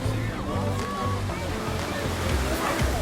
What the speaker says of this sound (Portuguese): A maré é muito cheia, acaba batendo um pouquinho as ondas